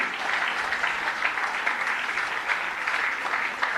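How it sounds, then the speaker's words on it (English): Steady applause from an audience at a World Tuberculosis Day event at the Governor's residence fills the clip, a dense continuous clatter of clapping hands with no break. "Amidst a good round of applause."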